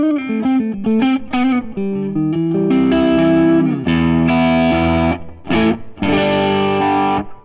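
Lightly overdriven electric guitar through a Cold War drive pedal playing a lead line: quick picked notes at first, then sustained bends and held notes, loud and up front.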